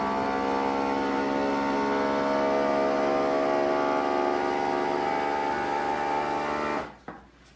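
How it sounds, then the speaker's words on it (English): A vacuum sealer runs with a steady, loud mechanical hum that drones continuously for several seconds, then cuts off abruptly with a short click near the end. "Then we're gonna vacuum and seal. And it's loud."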